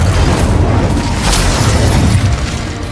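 A roaring blast of flame from the Incendio spell in Hogwarts Legacy, loud and sustained with heavy low rumble, easing slightly at the end, no speech present.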